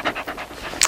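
Dog panting close up in quick, rhythmic breathy puffs, with a sharper scratchy burst near the end and no voices.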